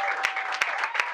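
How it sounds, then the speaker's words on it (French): An audience at a certificate-presentation ceremony for a capacity-building workshop claps steadily, a dense patter of many hands with a few louder claps standing out. "Mais applaudissons pour lui"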